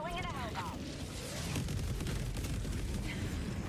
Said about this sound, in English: Drop a little cluster bomb.